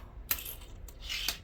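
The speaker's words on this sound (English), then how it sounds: "I take a random amount of coins from my piggy bank or my coin jar" Loose coins dropping from a piggy bank or coin jar, a few bright metallic clinks spaced apart with a longer jingle near the end, close and fairly quiet.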